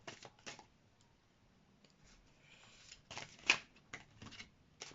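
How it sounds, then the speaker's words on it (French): Fortune-telling cards are shuffled and drawn, giving soft papery riffles and flicks in scattered short bursts, quiet and close, with no talking. "On va vous tirer d'autres cartes."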